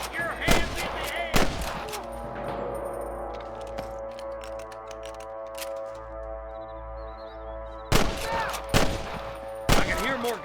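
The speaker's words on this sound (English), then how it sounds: "I can hear more gunshots." Gunfire in the Western video game Red Dead Redemption: sharp, loud shots in scattered bursts, with a lull of game ambience and music between them.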